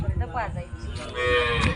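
Cattle on a village farm mooing up close, a loud drawn-out low call rising and sliding in pitch, with a second moo following after a short pause.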